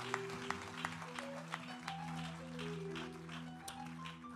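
A church congregation claps for God in a faint, distant burst of applause, the claps rising as rhythmic taps over sustained organ-like music.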